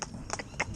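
Gypsy cob's hooves clip-clopping on the ground as the pony moves, a few distinct close hoof strikes in a short stretch with low background noise.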